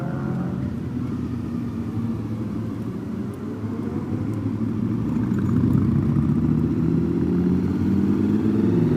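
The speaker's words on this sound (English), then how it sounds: "There's a Harley and a Goldwing holding up all this traffic." A Harley and a Honda Goldwing motorcycle rolling in slow traffic alongside cars, a low steady engine rumble nearby that grows gradually louder, with no one speaking.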